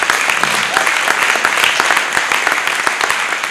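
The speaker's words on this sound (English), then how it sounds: "That deserves a big round of applause." Dense, steady applause from a crowd fills the whole stretch, many hands clapping together at a constant loud level.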